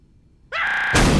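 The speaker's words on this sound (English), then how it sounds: "TF2 Air, you are now clear for takeoff." Jet engine sound effect from Team Fortress 2, an aircraft taking off: silence, then a loud rising whine that holds a steady high tone before bursting into a full, broad roar.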